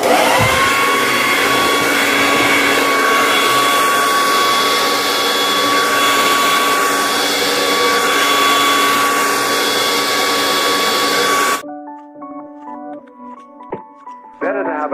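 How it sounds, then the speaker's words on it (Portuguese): A hair dryer blows with a steady, loud whine for about eleven seconds, then switches off, leaving quieter room sounds and a few faint knocks. "Ligando o secador."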